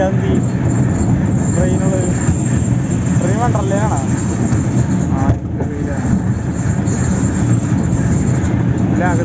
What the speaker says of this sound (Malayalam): ട്രെയിൻ